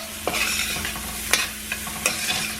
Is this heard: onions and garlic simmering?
yes